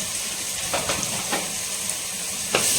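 Steady hiss of paste sizzling in hot oil, with a few soft clicks and stirring scrapes, close and continuous, no voices.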